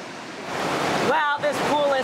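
A river rushing right beside a steaming natural hot spring pool in Taiwan, a steady, close, full wash of water noise with a person's voice speaking over it toward the end.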